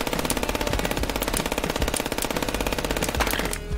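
Rapid, continuous machine-gun fire from the first-person shooter game FPS Chess, a loud unbroken stream of shots running the whole stretch before cutting off abruptly at the end.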